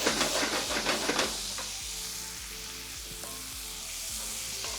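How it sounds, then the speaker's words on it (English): A frying pan of asparagus pasta with garlic, chili and lemon strips is shaken, giving a loud rattling sizzle for about a second, then a steady close hiss settles in with faint tonal hum beneath; no speech. "Going to shake the pan."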